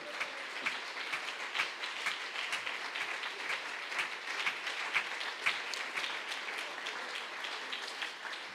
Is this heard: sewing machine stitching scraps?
no